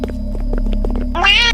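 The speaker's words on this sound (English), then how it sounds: "I can definitely hear cat noises." Cat meows play as sound effects in a Roblox disaster island survival game, with a loud, rising meow near the end over a low hum and scattered clicks.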